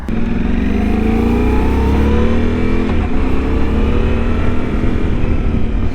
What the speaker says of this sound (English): that cross-plane 2-cylinder just has a good sound just from the get-go